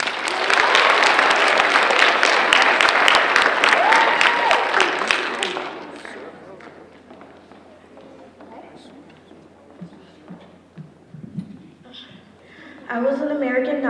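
Sustained loud clapping from a school assembly audience at a Black History Month celebration for roughly five seconds, then tapering off into murmurs and quieter room noise, with a voice rising near the end.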